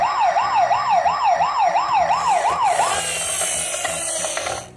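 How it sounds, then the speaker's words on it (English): A toy police car blares an electronic wailing siren, loud and close, with a steady rising-and-falling sweep that shifts to a harsher, faster tone near the end. "That's an awesome police car!"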